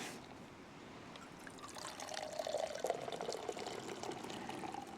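Tea poured from a flask into a cup on a frosty night beach, a thin trickling stream that grows into a fuller gurgling pour, close and quiet with no talking.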